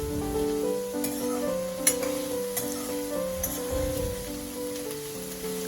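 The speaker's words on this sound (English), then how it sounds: "I'm giving it a good stir." Chopped garlic, ginger and green chilies frying and being stirred in a pan, a steady close sizzle with scraping stir sounds and a few sharp utensil clinks, no talk.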